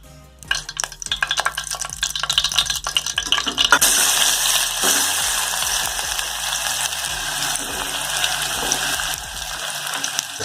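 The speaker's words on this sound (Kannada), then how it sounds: "ಆಲೂಗಡ್ಡೆ ಎಣ್ಣೆಗೆ ಹುಯ್ದರೆ" Potatoes hit hot oil in a cooking pot and settle into a loud, dense frying crackle, with clatter and stirring over the first few seconds before the sizzle steadies.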